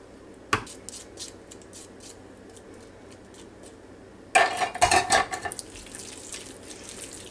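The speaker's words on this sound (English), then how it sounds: "Make sure you drain the Mandarin Oranges too" Mandarin oranges from a can are drained, giving a sharp metallic clink near the start and then a burst of splashing, trickling liquid that tapers off, close and fairly loud with no talk.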